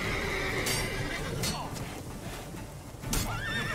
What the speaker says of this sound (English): All the horses are spooked.